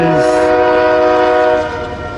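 A westbound empty Union Pacific coal train on the Transcon line near the BNSF diamond in Fremont sounds its horn loudly and close, a sustained multi-tone blast over rolling rail noise that fades slightly at the end.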